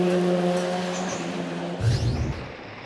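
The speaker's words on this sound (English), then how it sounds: "Stefan Moser-Russ competes in this car on gravel and tarmac." A rally car of over 500 horsepower roars on a gravel and tarmac forest stage, the engine note loud and steady before dropping off abruptly and fading away.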